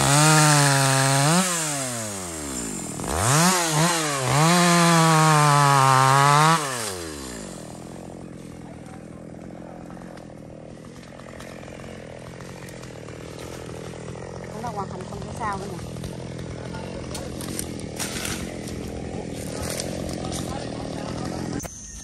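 A chainsaw cuts a tall Sao tree, revving loudly in rising and falling bursts before settling into a lower, steadier churning grind against the wood, with occasional voices in the background.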